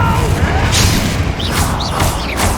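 Spell explosions in the video game Hogwarts Legacy go off as loud, repeated booming bursts with crackling impacts, one following another in quick succession.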